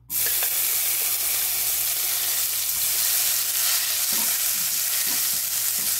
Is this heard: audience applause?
no